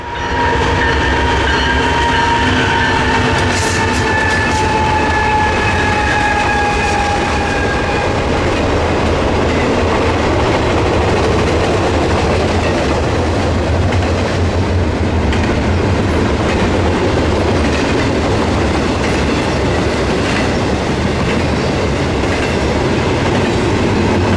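An intermodal freight train rolls past on the Pittsburgh line, a loud, close, continuous roar of wheels and rumbling cars lasting the whole stretch, with horn-like tones sounding and fading early on and a faint clatter of wheels over rail joints; no talking.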